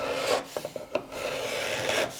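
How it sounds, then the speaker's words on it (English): Hand scraper drawn across a wooden boat frame, scraping soft epoxy and taking fine shavings into a square corner; a series of short rasping strokes, close and distinct, with no talking. "I can just scrape off that soft epoxy"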